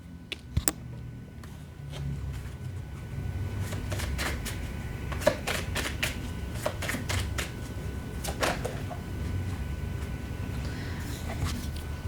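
Tarot cards being shuffled in quick bursts of riffling and soft slaps, close by, with a low steady hum underneath and no voices.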